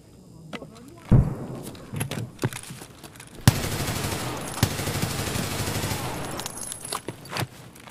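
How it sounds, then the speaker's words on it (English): G36 rifle fire in Escape From Tarkov: a single loud shot, then a sharp report launching a dense sustained automatic burst of several seconds, with scattered clicks and footstep-like thuds around it. "I like the gunshot."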